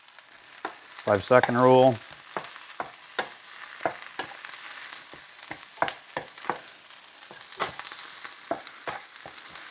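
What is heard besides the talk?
stirring food frying in a pan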